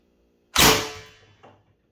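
A single sharp shot from an HDR 68 pistol fitted with a tuning barrel, loud and close with a quick decaying tail and a fainter second pop about a second later.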